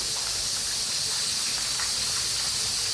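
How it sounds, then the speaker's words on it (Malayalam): Sliced onion and chopped carrot sautéing in hot oil with toasted spices, a steady, dense sizzle and hiss that holds evenly loud throughout with no talking. "ഇനി ഇതൊന്ന് വഴറ്റിയെടുക്കാം നന്നായിട്ട്."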